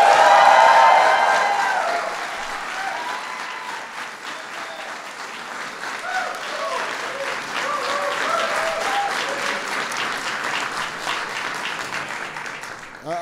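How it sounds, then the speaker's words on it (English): Sustained audience applause for a speaker at an Asian American and Pacific Islander Heritage Month event, loud at first and then steady clapping that continues throughout without talk. "I want to give a huge welcome and big round of applause for somebody who will go down as one of the greatest speakers in our history, Speaker Nancy Pelosi."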